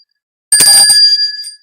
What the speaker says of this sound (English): And 39, you can ring the bell.